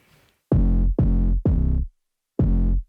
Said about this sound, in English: I have the normal kick drum on the normal note